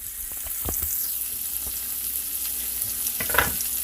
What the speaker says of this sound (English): while that's frying